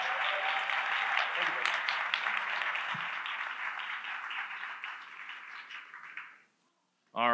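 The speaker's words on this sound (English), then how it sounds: "A round of applause for all of the contestants." A conference audience at RailsConf applauds contestants in a quiz session with dense, even clapping that fades out over about six seconds, followed by a brief voice at the end.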